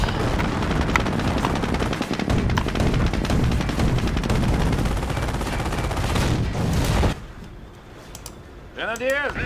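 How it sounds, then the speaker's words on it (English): Dense gunfire and explosions rattle through a battle in Company of Heroes: Tales of Valor, a loud continuous barrage for several seconds that cuts off abruptly, leaving quieter sounds and a brief voice. "The base is taking fire."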